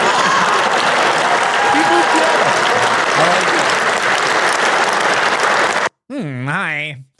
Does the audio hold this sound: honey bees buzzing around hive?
no